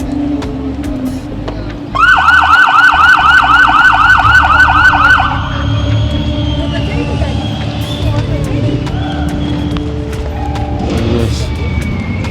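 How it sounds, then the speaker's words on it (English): An emergency vehicle's siren being tested on the street, a loud rapid warbling wail that runs for a few seconds and then fades into traffic noise, with people talking nearby. "They're just exercising their siren"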